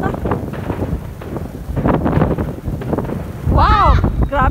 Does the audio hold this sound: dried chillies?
no